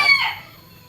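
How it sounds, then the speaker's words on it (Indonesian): Ornamental chickens at a small animal park cluck and crow in a close, loud burst that fades quickly, with no talking over it. "binatang di sini hanya ayam hias saja, berupa ayam hias"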